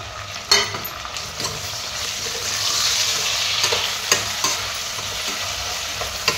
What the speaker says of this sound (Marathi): आपला कांदा भाजत आहे.